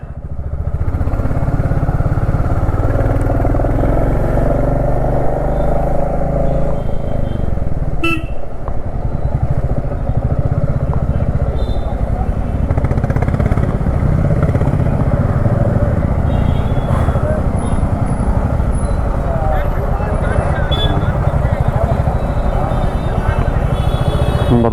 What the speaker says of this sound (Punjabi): ਬੜਾ ਜਾਮ ਆ ਯਾਰ ਬਹੁਤ ਲੰਬਾ